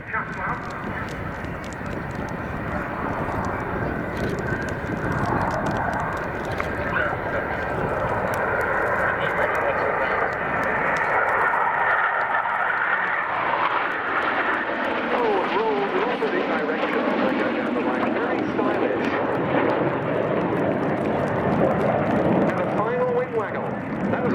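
A jet aircraft at the RAF Cosford air show roars past in a display sequence, its broad engine noise swelling and shifting in pitch as it passes, with a commentator talking over it throughout.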